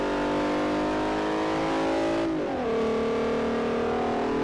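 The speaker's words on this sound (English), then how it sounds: "Those engine noises are loud as fuck." A loud race car engine in Forza Motorsport 4 drones steadily at high revs, then drops in pitch as the car shifts gear and keeps roaring.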